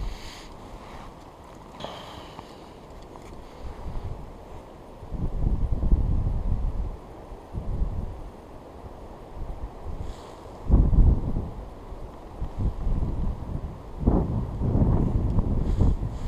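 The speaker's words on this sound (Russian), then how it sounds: "ветер, по-моему, раздул еще сильнее" Strong wind gusts over a bay during a fishing trip, buffeting the microphone in uneven low rumbling bursts that rise and fall, with a few stronger blasts, no talk.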